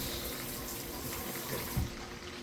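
Running tap water flows steadily into a kitchen sink as something is rinsed, a continuous close hiss with a small splash near the end, no talking.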